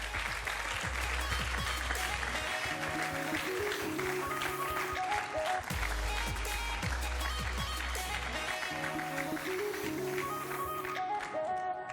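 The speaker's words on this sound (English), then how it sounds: "Give them a round of applause as they come onto stage." Crowd applause as esports racing players come on stage, steady clapping laid under loud, pulsing music with deep bass notes for the full stretch.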